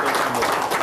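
A crowd of colleagues at a gathering breaks into dense, continuous clapping, brief and fairly loud, with some voices mixed in.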